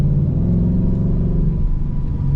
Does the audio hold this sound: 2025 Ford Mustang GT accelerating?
yes